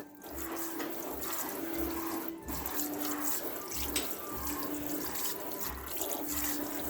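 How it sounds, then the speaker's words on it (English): Water poured over stored dormant scion wood to soak one side, a steady splashing, trickling flow running throughout at close range with no talk. "water the one side completely"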